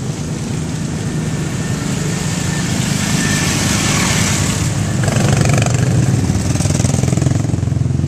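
Dirt bike engines drone at an off-road park on a Memorial Day weekend, a continuous rough motor buzz, fairly close and loud, holding steady and swelling slightly toward the end with no talk.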